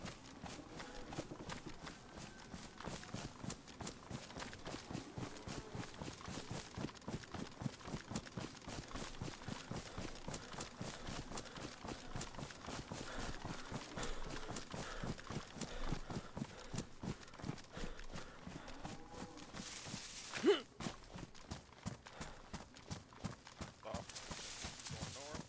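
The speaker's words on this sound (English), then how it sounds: "That's a cow." Hooves of a cow walking in the DayZ survival video game, a steady clip-clop rhythm of footsteps running throughout at moderate level, with voices talking over it and a brief louder knock near the end.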